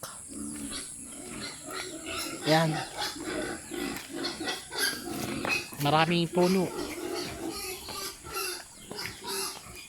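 Pigs on a provincial family farm, including young roasting pigs and a sow that has just farrowed, grunt and squeal in short bursts close by while people talk over them.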